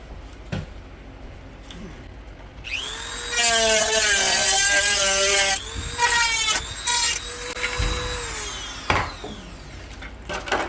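Power tool cutting the body shell of an SCX10 RC crawler fitted with a Beetle bug body, a loud harmonic whine running in bursts of about two to three seconds with brief pauses, close and alone.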